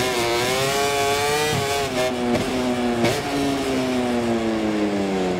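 Racing motorcycle engines from MotoGP 24 on PC scream steadily at high revs, with pitch rising and falling through gear shifts, loud and continuous with no talk.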